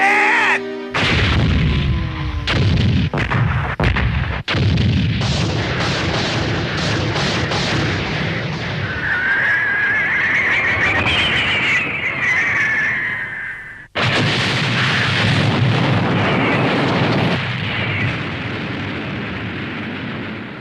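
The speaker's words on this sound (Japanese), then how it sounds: "まさか砲撃の着弾って。" Anime battle scene of artillery shells firing and slamming into a military training ground, a dense run of loud booms and blasts with rumbling debris, a sharp break near the middle, then renewed heavy roaring impacts.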